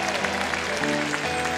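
Applause from a concert audience for a samba singer, a brief dense wash of clapping that is loud and steady, with music tones sustained underneath.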